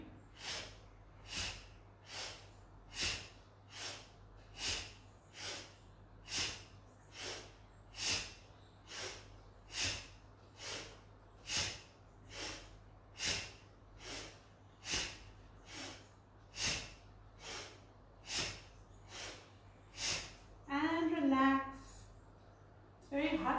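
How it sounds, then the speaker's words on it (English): Forceful, rapid breaths in and out during a yoga breathing exercise, evenly paced at just under one per second for about twenty rounds and close to the listener, with a brief voice near the end. "And together, breathe in 1, in 2, in 3."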